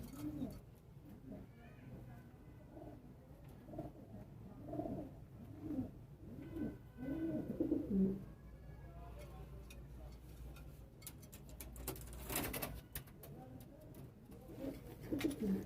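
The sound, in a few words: pigeon cooing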